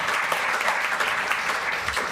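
Brief, full applause from a live music audience, dense and steady clapping that fills the whole moment with no talking.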